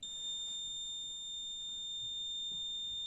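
Alarm of an assembly test rig checking correct fitting of a part, a steady high-pitched electronic tone sounding continuously and fairly quiet, with faint background noise and no talk.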